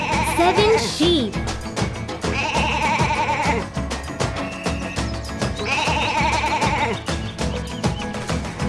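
Cartoon sheep bleat loudly in a few drawn-out, wavering calls with gaps between them, set over rhythmic background music in a children's counting song.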